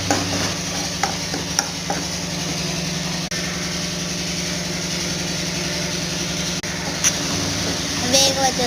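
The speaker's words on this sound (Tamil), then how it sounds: "வேக வச்ச சோயா சங்க்ஸை போட்டு நல்லா வதக்கிக்கணும்" Boiled soya chunks are being sautéed in a pan with ginger-garlic paste, stirred steadily so a continuous frying sizzle runs throughout, overlaid by a steady low hum like an engine or exhaust fan nearby.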